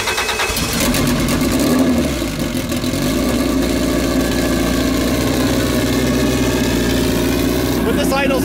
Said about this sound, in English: But this idle's nice and smooth.